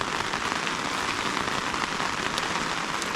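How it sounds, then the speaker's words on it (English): Heavy rain pours down at a bushcraft campsite, a dense, loud, continuous hiss of drops striking surfaces close by, with no voices. "Wow, that's really raining."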